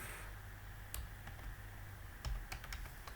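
PHP code being typed on a computer keyboard, with quiet irregular key clicks and a few sharper taps over a low steady hum, close up with no talking.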